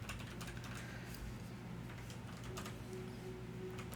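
Keys clatter in quick irregular bursts on a computer keyboard as a short phrase is typed, close and fairly quiet over a steady low hum.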